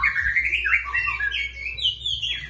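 A white-rumped shama (murai batu) sings a continuous run of bright, varied whistles and chirps, close and clear, with faint low background hum.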